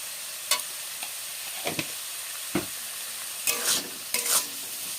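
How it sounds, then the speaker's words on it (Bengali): Shrimp sizzle in oil in a wok as a spatula stirs and scrapes. Bursts of crackling frying rise and fall in quick, irregular strokes. "ওই তেলে চিংড়িগুলো ভেজে নেব"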